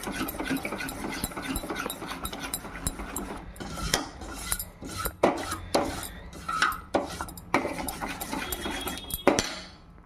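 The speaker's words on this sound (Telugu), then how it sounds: "కలుపుకుంటూ ఉండండి, లేదంటే అడుగంటుతుందండి." Beetroot halwa with ghee being stirred in a pan, with repeated clinks and scrapes of a spoon against metal over a low, steady cooking background.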